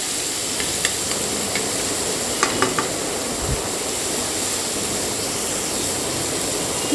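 Masala with ginger stirred and frying for a Bengali rohu fish curry, a steady soft hiss and sizzle throughout with a few faint scraping clicks from stirring.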